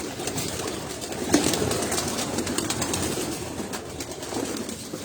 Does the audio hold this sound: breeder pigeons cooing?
yes